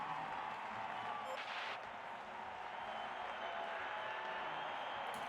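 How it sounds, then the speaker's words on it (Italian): Crowd applause in the F1 Manager 2022 racing game, cheering McLaren after the finish, a faint, steady wash of clapping that runs throughout, with a brief swell near the middle. "Applausi per la McLaren."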